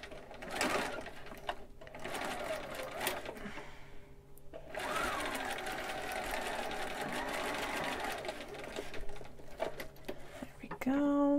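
A sewing machine top stitches a monk robe, running in close, steady stretches with a brief pause between them, loud and whirring, with some clatter near the end.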